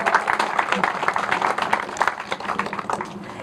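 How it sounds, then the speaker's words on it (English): A street crowd at a downtown outdoor ceremony applauds artists and sponsors, steady clapping from many hands with distinct individual claps and a few voices mixed in, holding for over three seconds. "Bigger round of applause, too, for the sponsors"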